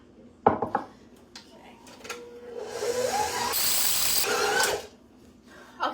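A stand mixer kneads sourdough bagel dough made from fresh-milled flour on high speed, a rising whir that holds for a couple of seconds, framed by sharp clanks and rattles of the bowl and tools.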